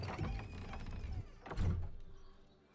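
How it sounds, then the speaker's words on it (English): A door opens in the video game Baldur's Gate 3, giving a muffled mechanical creak and thunk that swells and fades over a few seconds. "I'm opening the door."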